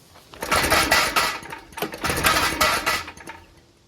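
A petrol generator engine is cranked to start, giving two rough, loud, close bursts of rattling mechanical churning, each lasting about a second and a half.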